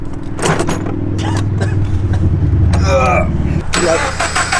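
A car engine with a rebuilt block cranking and starting up, then running at a rough idle nearby while people talk over it.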